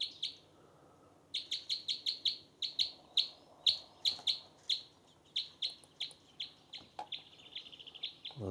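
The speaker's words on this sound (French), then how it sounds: "là maintenant c'est sur un bec croisé qui est au sommet des arbres" A red crossbill sings from the treetops, picked up through a parabolic microphone as a long series of clear, evenly spaced high chirps with brief pauses, crisp and isolated against a quiet background.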